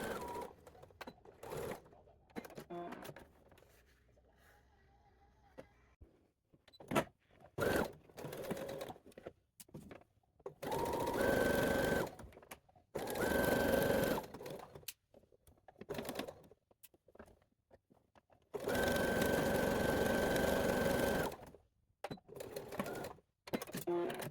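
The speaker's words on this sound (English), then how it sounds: "Here I'm sewing the lining together for the top of the bodice." A sewing machine stitches the lining for the bodice of a vintage-inspired summer dress. It runs in bursts, some short and others sustained for a few seconds, with quiet pauses and handling noises between them.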